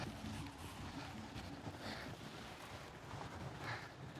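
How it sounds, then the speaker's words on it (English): Strong wind sweeps across a high plateau, a steady low roar buffeting the microphone with occasional stronger gusts, faint overall and with no voices. "the hiking trip in the high plateau where it's windy like this all the time"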